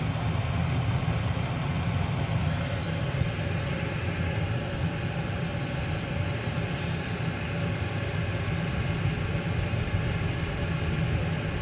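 A diesel parking heater runs with its fuel pump cycling at about 1.7 per second, giving a close, continuous roaring hum that stays steady throughout with no speech.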